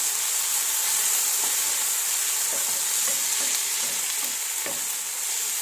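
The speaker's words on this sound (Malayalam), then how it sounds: "ഈ കോവയ്ക്കയ്ക്ക് ഉള്ളത് കൊണ്ട് തീ കൂട്ടി വെച്ചാലും കുഴപ്പമൊന്നുമില്ല അതിൻ്റെ വെള്ളം ഇറങ്ങിക്കോളും എന്നിട്ട് നല്ലപോലെ ഫ്രൈ ആയിട്ട് വരും" Ivy gourd stir-frying over high heat crackles and hisses continuously in the pan, with occasional soft scrapes from stirring and no talking.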